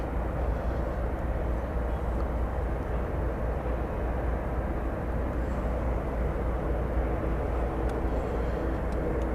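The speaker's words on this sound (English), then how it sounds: "Is this the Iberia jet? I believe it is." An Airbus A330-300 jet airliner roars steadily and loudly throughout at an airport at night, a broad continuous engine rumble that never fades, with no voices.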